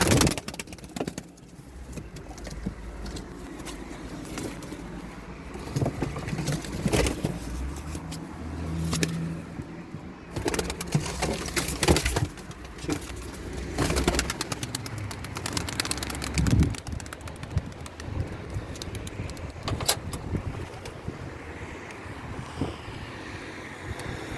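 Young pigeons released outdoors in gusty wind, wings flapping in bursts amid heavy wind buffeting on the microphone and a low rumble in the background.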